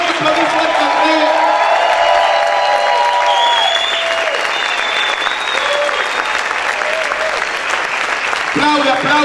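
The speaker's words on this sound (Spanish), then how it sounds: "¿Cuántos pueden gritar y aplaudir fuerte al Rey?" A church congregation bursts into loud applause with shouts and whoops during a worship service, a thick continuous wash of clapping and cheering, with music and voices rising over it.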